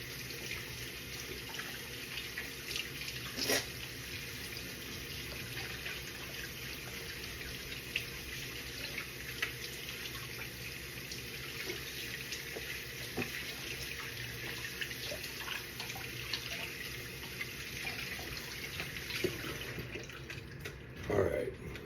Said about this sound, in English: I'm gonna wash my hands and I'll be right back.